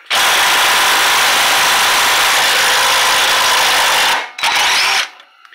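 A power wrench with a 5/8 socket whirs loudly and continuously on the front strut nut of a 2013 Fiat 500, then stops, gives a short second burst and falls silent.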